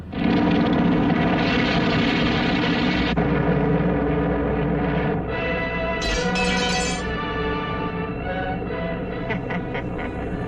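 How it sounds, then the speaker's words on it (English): A giant bomber taking off in a classic Famous Studios cartoon: a loud, steady roar of propeller engines with a droning hum that shifts pitch midway and swells again, filling the whole stretch. "Giant bomber being stolen. Take off immediately."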